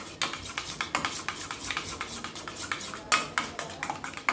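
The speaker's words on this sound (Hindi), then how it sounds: "अभी लिया है हमने 3 से 4 टेबलस्पून जितना दही, ये नॉर्मल दही है, ज़्यादा खट्टा नहीं है। इसे हम इस तरह से फेंट लेते हैं" Plain, mildly sour curd whisked in a bowl, a steady run of soft scraping clinks from a utensil against the bowl's sides, close and fairly quiet, with no voices over it.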